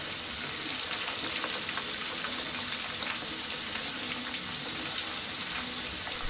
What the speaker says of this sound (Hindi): इसलिए आप इसे मिड हाई फ्लेम पर ही फ्राई करें, अच्छे से पलटते हुए